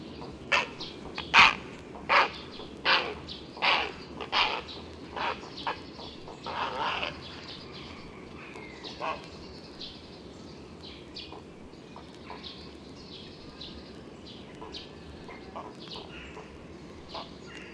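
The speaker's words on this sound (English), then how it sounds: "Tree sparrows are calling as well." Tree sparrows call in a spring woodland, a run of sharp, evenly spaced chirps up close that fade into softer, scattered calls over quiet background hum.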